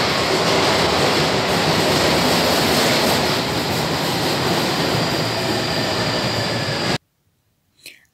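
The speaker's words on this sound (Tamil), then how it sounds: "ட்ரெயின் எவ்வளோ சவுண்டோடு வந்துருக்கு." A London train pulls into a station with a loud, sustained roaring rush of wheels and rails that holds for about seven seconds, then cuts off sharply to near silence with a brief faint sound at the end.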